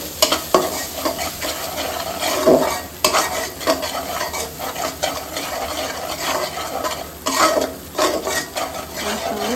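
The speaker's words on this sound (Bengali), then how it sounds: "এখন হচ্ছে মশলাটা কষাবো ভালো করে।" Spice paste with chilli powder stirred and fried in a pan for a rohu fish curry, a continuous close sizzle broken by repeated scraping strokes of the spoon.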